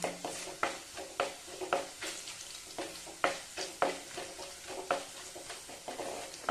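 Garlic frying in oil in a clay pot for a village-style fish curry, with repeated stirring scrapes and soft sizzling in a steady rhythm, close by, with no voices.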